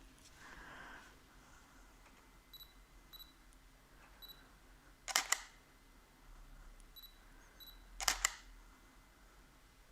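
A camera shutter fires twice a few seconds apart during a food photography shoot, two sharp, close clicks over a quiet room hum with faint light clicks in between.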